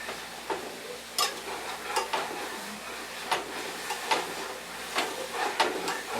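Eggs fry in a pan and are stirred, with a soft constant sizzle broken by repeated sharp scrapes and taps of the utensil at an uneven rhythm, close up and with no talking.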